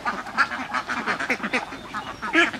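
Laying ducks on a duck farm quack in a dense, continuous chorus at feeding time, many birds close by calling over one another in rapid overlapping bursts.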